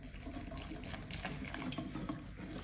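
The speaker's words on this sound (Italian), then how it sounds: "aggiungo 300 g di acqua." Water pours steadily into a bowl of rice flour, a continuous close splashing and gurgling stream with no talking.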